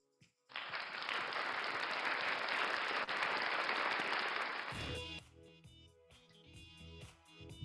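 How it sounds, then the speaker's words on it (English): A crowd bursts into sustained applause, loud and steady for several seconds before it tapers off into quieter background sounds. "So let us all give them a virtual round of applause."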